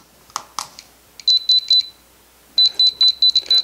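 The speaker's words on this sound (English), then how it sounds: "enough to demonstrate the detector's alarm, activated by pressing the speaker button" Waysear BR-6 radiation detector alarm: a few button clicks, then repeated sharp high-pitched electronic beeps in quick bursts, three at first and then a faster run of six, close and loud.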